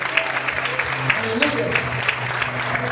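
Applause from a church congregation during a worship service, a dense steady patter of clapping with low sustained music or organ tones underneath, fairly close and continuous for a few seconds.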